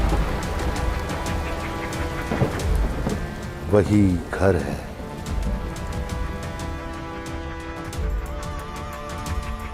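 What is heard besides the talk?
rain falling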